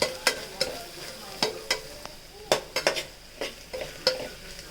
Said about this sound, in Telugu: మసాలా వేసేసి అది కూడా కొంచెం మంచిగా కలుపుతున్నాను